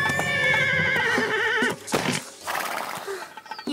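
A nervous horse neighs loudly with a long, quavering whinny, followed by brief hoof clip-clops and a shorter snort-like call near the end, close and clear.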